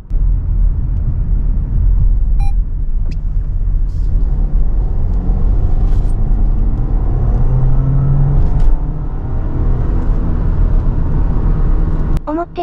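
A Subaru Layback accelerates up a ramp onto the Tokyo expressway, its engine and road noise a loud, continuous rumble heard from inside the cabin.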